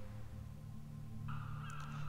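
Crows caw over a beach in The Last Door, a few harsh calls rising above a steady low ambient drone, moderately distant and fairly faint.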